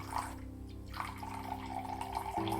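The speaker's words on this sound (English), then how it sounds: "Measure out 100 ml of white wine" White wine being poured into a measuring cup for a Japanese cream stew, a continuous close liquid trickle with a low gurgling tone that shifts pitch slightly as the cup fills.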